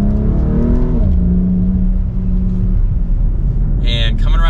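A 2024 BMW X3M Competition in normal mode accelerating up through the gears, a loud, close engine rising in pitch, dropping at a shift, then climbing again.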